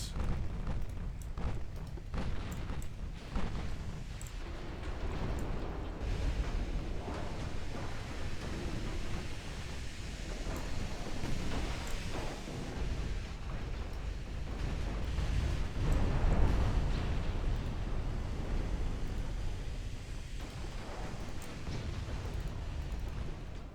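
A torpedo strikes a ship in the naval game Ultimate Admiral Dreadnoughts, giving a deep, sustained, rolling explosion that blends into surging sea and wind noise for the whole stretch, with no talk over it.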